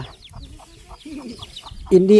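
Chickens being chased off cluck in quick, agitated bursts, close by, with a louder squawk at the end; a person's voice may be mixed in faintly.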